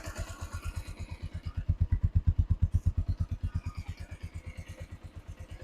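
A second-hand motorcycle engine idles steadily close by after starting, a loud rhythmic low thumping that swells briefly and then settles to an even idle.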